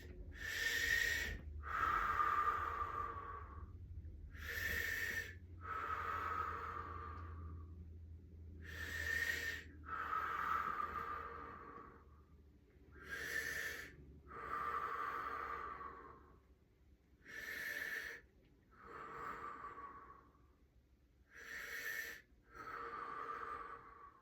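Heavy rhythmic breathing during a leg-pumping exercise, about ten loud, close breath cycles with airy inhales and wheezy exhales, alternating steadily with short pauses.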